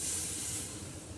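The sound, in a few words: water poured into hot pan, hissing and sizzling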